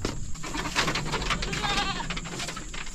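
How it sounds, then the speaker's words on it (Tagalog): Female goats bleating on a small farm, a buck pestering two does, with overlapping calls rising over steady outdoor background noise at moderate distance. "Ginugulo niya yung dalawang babaeng kambing niya."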